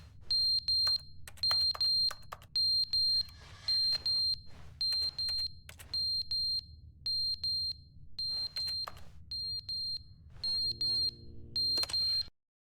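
A fire alarm in the video game The Stanley Parable rings in repeated, steady high electronic beeping bursts, an even pulsing pattern that runs for several seconds and then cuts off.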